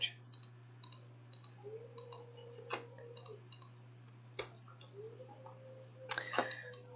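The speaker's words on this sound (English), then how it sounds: "click every stupid edge" Steady, light computer mouse clicks while selecting edges in Maya, an irregular run of quiet close ticks over a faint constant hum, with a brief cluster of louder clicks near the end.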